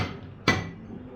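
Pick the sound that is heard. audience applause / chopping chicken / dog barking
chopping chicken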